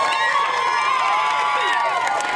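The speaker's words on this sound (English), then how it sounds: "Outside the Phoenix courthouse, the crowd erupted" A crowd outside the Phoenix courthouse erupts after a murder trial verdict, with loud continuous cheering, shouting and excited voices filling the scene throughout.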